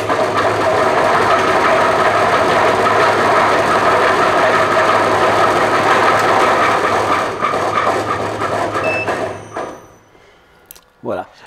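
An ice cream turbine machine running empty at extraction speed, a loud steady mechanical whir that holds for about nine seconds, then winds down and stops, followed by a couple of small clicks.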